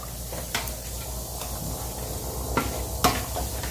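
Rice is stirred in a pot on the stove over a soft background sizzle, with a few scattered scrapes and clinks from the utensil against the pot, close and fairly quiet.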